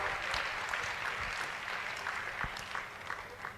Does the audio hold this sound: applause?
yes